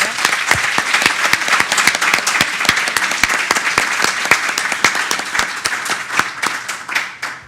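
Lively audience applause at a justice administration seminar, sharp individual claps standing out clearly within a busy crowd clatter, sustained throughout and beginning to thin toward the end.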